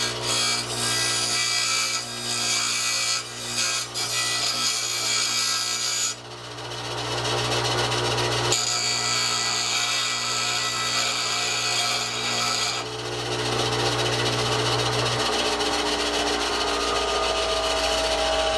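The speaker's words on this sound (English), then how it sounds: "By running the screw up against the grinding wheel so that the grinding wheel is going this direction." A bench grinding wheel spins continuously while a screw's threaded end is pressed against it to clear a burr, giving a loud steady whine with bursts of harsh grinding contact that stop and restart.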